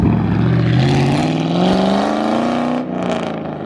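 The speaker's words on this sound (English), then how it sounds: "Guys, this thing is loud. It's way louder than my car." A new car's loud engine drives close by, a strong steady roar with rising and falling revs throughout, easing briefly near the end before picking up again.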